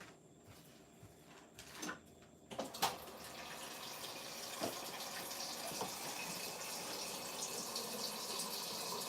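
Water pours into a pot of soup being made in a home kitchen, preceded by a few sharp clunks of containers; a soft steady trickle and splash follows for several seconds.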